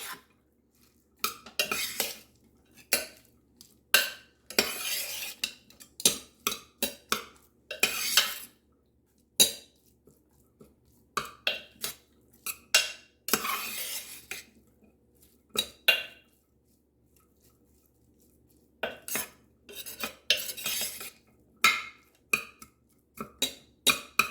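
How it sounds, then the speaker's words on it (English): Utensil stirring slow cooker pizza pasta ingredients with a touch of garlic, clinking and scraping against the pot in repeated bursts with short pauses, close and fairly loud. "And we're going to stir this all up. Mix this up well."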